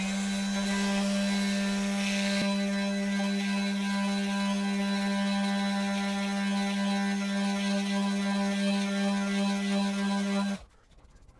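Milwaukee M12 FUEL 2531 orbital detail sander with a 1.5 mm orbit runs at a steady, loud electric hum with a strong low whine for about ten seconds, then cuts off abruptly into near silence.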